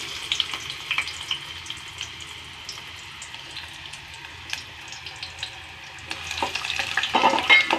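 Moringa leaves, onion, garlic and ginger sizzle steadily in a pan, with soft scraping of a stirring utensil and rising crackle toward the end; no voices.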